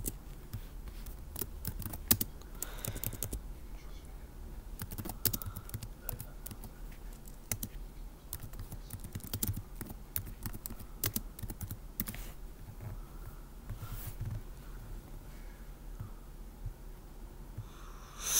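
Typing on a computer keyboard to enter a game description, a steady stream of close, light key clicks with brief pauses, running without any talking.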